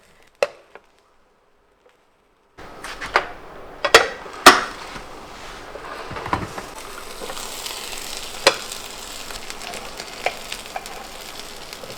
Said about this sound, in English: I coated the surfaces with some butter and placed the sandwiches in.